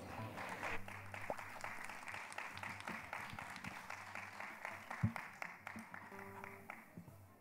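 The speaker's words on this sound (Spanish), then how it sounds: "Démosles un fuerte aplauso." Audience at a book presentation clapping to receive the author and his companions, a soft, even spread of applause with scattered sharper claps, fairly distant and quiet throughout.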